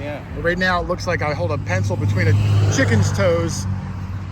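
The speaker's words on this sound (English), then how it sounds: "We are right up on a 4-lane highway, lots of traffic" A steady roar of traffic from a nearby four-lane highway beside an old church in a busy city continues without a break under a man's close speech.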